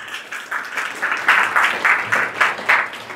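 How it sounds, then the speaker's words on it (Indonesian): Students at a school leadership training event in Jakarta clap together in a loud, close round of applause that swells into rhythmic, almost unison beats before continuing steadily. "Tepuk tangan sekali lagi."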